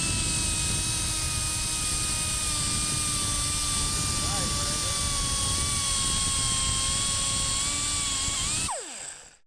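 Die grinder running steadily against an Impala dash pad while an AC vent opening is cut, a loud sustained high whine with shifting tones that winds down abruptly near the end.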